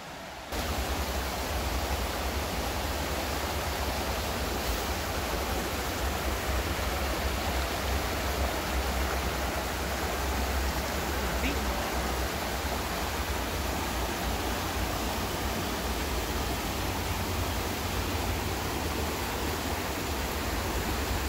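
A river near Gatlinburg running over rocks, a dense, steady rush of water that stays loud and even throughout, with no talking.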